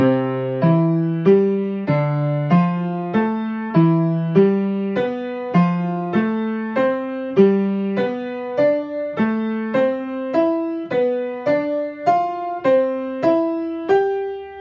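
A piano plays a broken triad exercise, a steady stream of broken chords, notes rising and falling in even, unbroken rhythm as the pattern shifts upward from C position, alone without speech.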